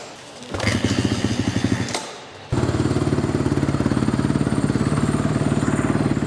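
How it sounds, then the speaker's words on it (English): A dirt bike engine kicked over with a kickstarter, first a brief sputtering attempt that dies out, then it catches and settles into a loud, steady, close idle with rapid rhythmic firing pulses. "Okay, so we started the dirt bike."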